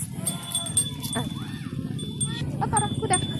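Horse hooves clip-clop in an irregular run of clear knocks while people talk and call out nearby, outdoors at a pine forest tourist site in Malino, with steady crowd murmur underneath.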